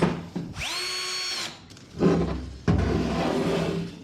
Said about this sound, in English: Put the torque on the drill on the lowest torque we can possibly put and finish the screws.